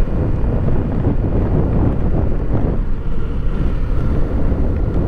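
A new Kawasaki Eliminator SE motorcycle, still in break-in, ridden along a coastal expressway, with loud, steady wind roar and buffeting over a low rumble throughout, no voices.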